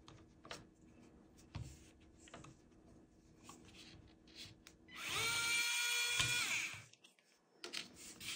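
A small power tool whirs steadily for about two seconds while loosening a screw during a 1911 pistol trigger install, then stops, amid quiet clicks and faint handling noises close by.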